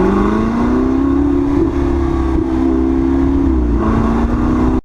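Ferrari 488 Spider engine droning steadily while driving, a loud, close, continuous mid-pitched hum that swells slightly as the revs shift, with no voices.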